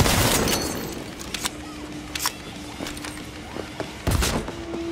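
Shotgun blasts in Cyberpunk 2077 combat, a few sharp, punchy shots spaced apart, with a loud burst at the start and another near the end, amid clicks and a faint tonal hum.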